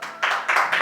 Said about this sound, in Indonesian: beri tepuk tangan untuk beliau.